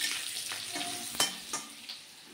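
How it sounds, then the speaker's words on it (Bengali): Potatoes fry in a pan after being lifted out of a curry, giving a soft, continuous sizzle broken by a few sharp clinks and scrapes of stirring. "এত সুন্দর তরকারিটার থেকে আলুগুলো উঠে উঠে ফ্রাই করে নিচ্ছে এখন।"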